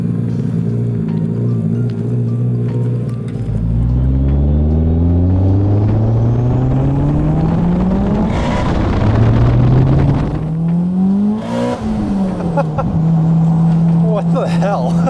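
A 700-horsepower Mitsubishi Evo engine accelerates hard with turbo boost, loud and close, its rising harmonics climbing through gear changes with a sharp surge as boost hits and brief dips between shifts, people talking underneath.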